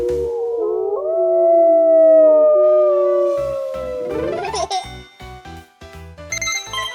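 A wolf howling in long, overlapping, gliding howls that rise and fall loudly, giving way to a bouncy rhythmic musical beat.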